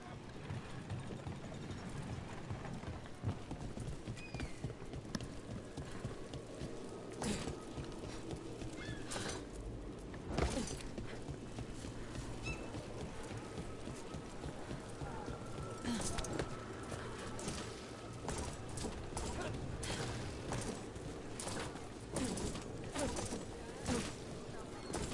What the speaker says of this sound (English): there are some fine examples of horses on display in the Grand Necropolis